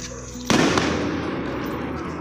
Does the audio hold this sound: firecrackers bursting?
yes